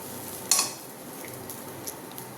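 A spoon stirs rice with lemon juice in a pot, starting with one sharp clink against the metal, followed by quiet scraping and faint ticks.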